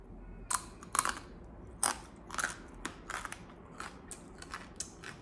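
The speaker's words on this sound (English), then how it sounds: "Lotus chips even taste crunchy overnight" Crisp crunching bites of oil-free lotus chips, left out overnight, repeat irregularly up close, each a sharp crackly burst against a quiet background.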